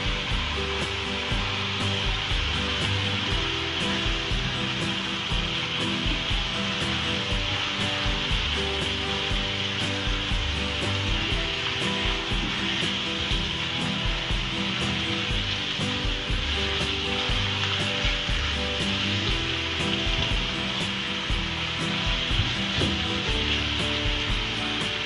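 Red chili powder spice mix cooks in a hot pan for a samosa or kachori filling, producing a steady, even sizzle that carries on unbroken at moderate loudness the whole time.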